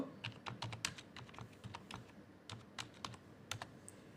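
Quick, irregular keystrokes on a computer keyboard, close and fairly quiet, forming clustered bursts of clicks with brief pauses and no talking.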